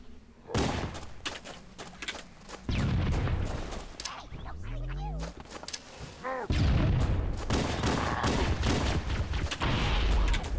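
Gunfire aimed at Sangheili enemies in Halo: The Master Chief Collection on Legendary difficulty, with bursts of shots and heavy thuds running through most of the stretch, some sharp whooping game effects midway, and a voice talking at points.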